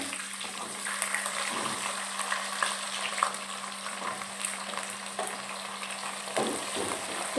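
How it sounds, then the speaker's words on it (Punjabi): Cumin seeds frying in hot oil in a pan, giving a steady, fairly quiet sizzle with light crackling that continues evenly throughout with no talk. "ਤੇਲ ਗਰਮ ਹੋ ਗਿਆ ਹੁਣ ਮੈਂ ਪਾ ਦਿੰਨੀ ਆ ਇਹਦੇ ਵਿੱਚ ਡੇਢ ਕ ਚਮਚਾ ਜੀਰੇ ਦਾ"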